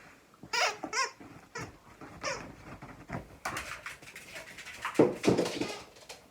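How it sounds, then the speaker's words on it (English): A dog plays with her toy indoors, giving squeaky whimpering whines and rustling, scuffling sounds in irregular bursts close by. "my dog is having the time of her life with her toy, as you can hear"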